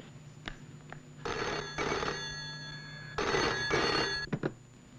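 A telephone rings in a 1980s Hindi film scene, two paired bursts of electric bell ringing separated by brief pauses, fairly clear against a quiet room with a couple of small knocks.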